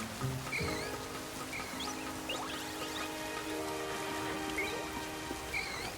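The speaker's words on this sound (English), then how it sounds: "I wonder if that's uncomfortable for them, being out in the rain." Rain in the Pokémon Legends: Z-A video game falls as a steady, soft hiss with light patter and faint chirps layered above it, with no talking.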